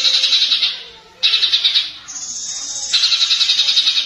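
A green leafbird (cucak ijo) sings loud and close, rapid trilling bursts of high chirps in long phrases broken by short pauses, with a thinner whistled passage in the middle.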